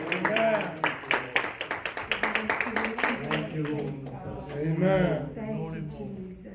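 A church congregation claps hands together in a fast, even rhythm for several seconds, the claps mixed with loud voices and singing that carry on over the beat.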